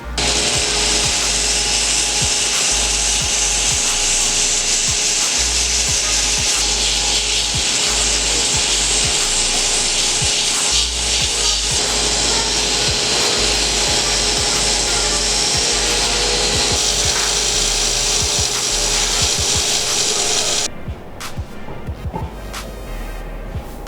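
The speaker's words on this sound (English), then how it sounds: "Now we'll do a bit of sanding." Loud, continuous abrasive rasping of sanding a Damascus knife handle, steady and close, ending in a short burst of clattering and scraping.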